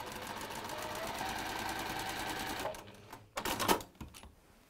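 A sewing machine stitches a small lavender-filled fabric sachet closed, with a fast, even mechanical whir that slows and stops, followed by a few clicks and handling noises.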